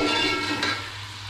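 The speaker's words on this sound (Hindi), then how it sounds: "प्याजों को भून लेंगे।" Three chopped onions sizzle in heated oil for biryani, a short burst of close frying hiss that fades slightly toward the end, over a low steady hum.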